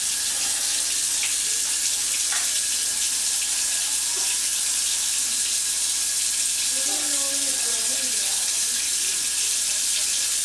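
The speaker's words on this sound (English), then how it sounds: "The first thing I'm going to do is wash my hands." Running tap water pouring steadily into a sink as hands are washed before cooking, a constant close hiss throughout with faint murmurs of voice underneath.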